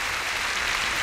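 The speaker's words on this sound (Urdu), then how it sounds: "آئیں خداوند کے لیے تالیاں بجائیں۔" A church congregation claps together in praise, producing a dense, steady wash of applause.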